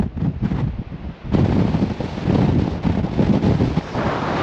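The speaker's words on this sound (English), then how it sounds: "Yeah, this wind," Strong gusting wind buffets the microphone on Blackpool promenade, a loud, continuous roar that rises and falls and swells after a brief lull.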